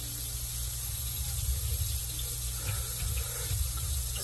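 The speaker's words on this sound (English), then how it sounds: "it's leaking on the opposite side of the meter, on the other side of the foundation" Water leaking from a ruptured water line near the meter under a house foundation makes a steady, continuous hiss and rush like a running faucet, even and unbroken throughout, with no talking.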